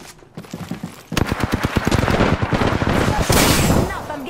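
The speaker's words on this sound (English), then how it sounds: "I'm getting shot at" Rapid automatic weapon fire in an Apex Legends match, a few scattered shots and then a loud, sustained burst of close, evenly spaced rounds lasting several seconds.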